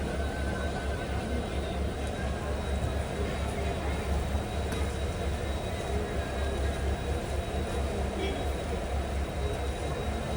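Inside a passenger train near Paramakudi station on the Madurai to Rameswaram line, a steady low rumble and rattle of the carriage runs throughout, with faint background voices.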